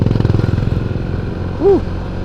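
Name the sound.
motorcycle overtaking on a forest road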